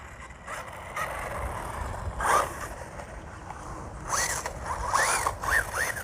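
A Rlaarlo 1/14 brushless RC buggy pulls wheelies on grass, its electric motor whining in quick rising and falling bursts, some rapid and repeated, close by with outdoor ambience.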